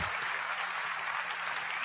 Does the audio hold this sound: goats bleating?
no